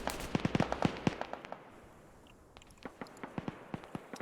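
Incoming rockets explode in the Arma 3 Zeus military game, a rapid scatter of sharp cracks and thuds that crowd together at first, thin out, then return as a sparser string of distant bangs, no voices.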